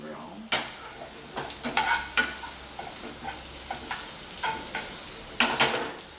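Onions browning and caramelizing in a hot pan, with a soft steady sizzle broken by repeated scraping and clicking stirs, close and fairly quiet, no voices.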